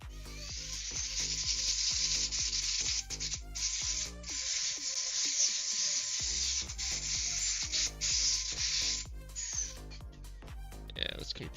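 An air compressor's air gun blasts air onto a lightning-damaged PS5 console, a loud sustained hissing rush with brief dips and fast mechanical ticking running underneath throughout.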